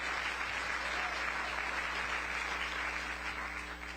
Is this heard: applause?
yes